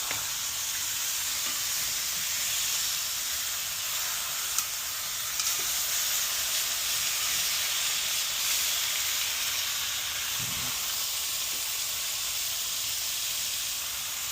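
Steak sizzles steadily in an Our Place Titanium Always Pan Pro nonstick pan, a loud, continuous frying hiss with no talk over it.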